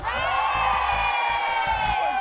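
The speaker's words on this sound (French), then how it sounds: "Applaudissez aussi monsieur Purab." Audience at an honoring ceremony cheering and shouting in a loud, continuous crowd roar, with whoops over sustained music-like tones throughout.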